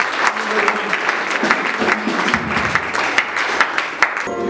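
Audience applause with scattered cheering at a church worship-day auction sale, a steady dense patter of many hands with sharp individual claps standing out, moderately loud and continuous throughout.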